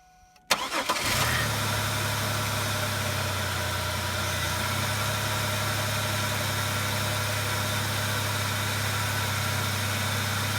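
A 2002 Pontiac Grand Prix with a 3800 engine and freshly replaced ignition coils cranks briefly, catches and fires up, then settles into a steady, even idle with a low rumble, close by with no talking.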